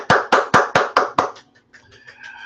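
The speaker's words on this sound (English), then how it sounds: "I just do the hand clap." Six quick, evenly spaced single hand claps from one person, close and loud, then stopping, followed by faint quiet room sound.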